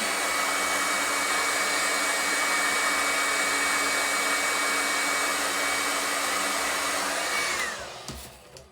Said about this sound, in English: And then you're going to take your blow dryer.